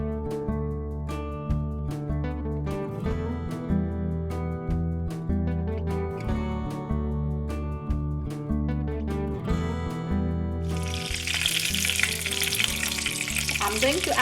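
Breaded chicken cutlet pieces drop into a frying pan near the end and start a bright, close sizzle. Rhythmic background music plays throughout.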